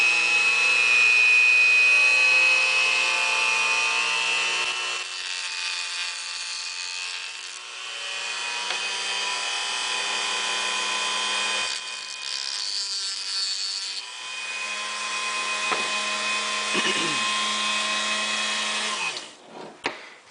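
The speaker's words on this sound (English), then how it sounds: "if you score the pin head with a Dremel in an X-shaped pattern, it guides the drill bit down in the correct manner" A Dremel rotary tool scores an X pattern into the pin head of a straight razor during restoration, a steady high whine with grinding texture that runs loud and close for about twenty seconds, with brief dips between passes.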